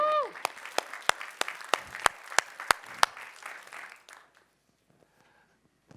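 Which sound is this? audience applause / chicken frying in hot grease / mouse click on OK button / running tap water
audience applause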